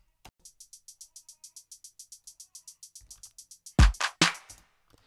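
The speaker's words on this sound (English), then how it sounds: "as you can hear, I added some hi-hats" Dancehall riddim beat: crisp hi-hats tick in a steady even run of about twenty quick hits, then heavy booming low drum hits land near the end, with no voices over it.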